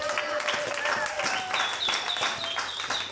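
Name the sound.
audience applauding for the Lord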